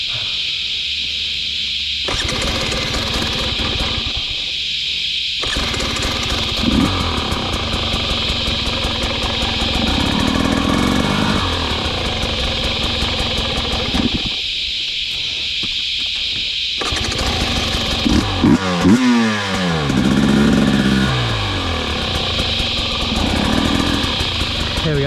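Brand-new Husqvarna TE 300i dirt bike engine running close by, a loud raspy two-stroke buzz that idles, revs up and drops back several times, with a short interruption partway through.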